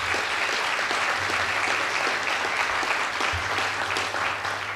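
Dense, sustained applause from a large conference audience cheering a newly created consumer financial protection agency, steady and loud throughout with no voices rising above it.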